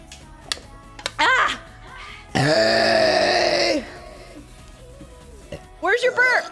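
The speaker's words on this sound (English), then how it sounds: "Where's your burp? There it is." Loud, drawn-out belch from a person in a burping competition, lasting over a second, with short vocal grunts and noises before it and voices reacting afterward.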